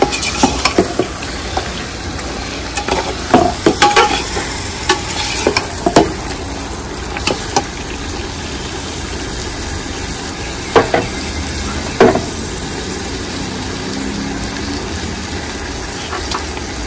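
Meat fries in a spiced masala for an Eid biryani, loud continuous sizzling with scattered scraping and stirring clatter from a spoon against the pot, close up.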